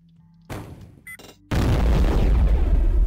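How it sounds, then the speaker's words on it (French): Mines detonating in the Shadow Warrior Classic video game: a short burst, then a loud, sustained explosive roar of debris and rumble filling the rest of the moment, with no voices. "on va aller détruire les mines qui sont là"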